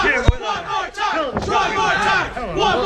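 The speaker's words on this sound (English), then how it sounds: "The crowd is calling for one more time here." A backyard wrestling crowd chants and shouts for one more time, rhythmic massed voices close and loud, with a sharp impact thump near the start.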